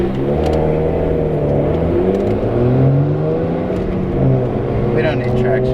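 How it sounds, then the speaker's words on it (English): A BMW 335i with a turbocharged engine pulls hard from inside the cabin, a loud rising and falling engine drone with shifting pitch as it accelerates, while people talk over it. "Turbo noises though."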